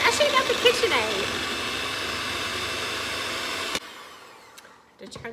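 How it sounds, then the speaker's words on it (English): An electric hand mixer whirring steadily as caramel is poured into an egg, sugar and vanilla mixture, a close continuous drone that cuts off abruptly, followed by quiet kitchen handling noises. "I'm going to slowly add in that caramel. Get it all over my mixer."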